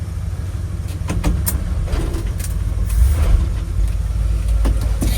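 An old abandoned Ford F100 truck drives along with a loud, steady engine rumble and road noise, plus scattered rattles and clicks from the worn body, and no one speaks.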